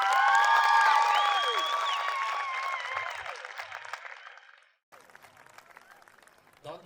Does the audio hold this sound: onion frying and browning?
no